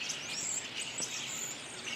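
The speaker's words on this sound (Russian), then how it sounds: "Не знаю, улавливает ли камера звуки щебетания птиц" Faint outdoor birds chirping in short high tweets over a soft steady background hiss, distant, with no talking.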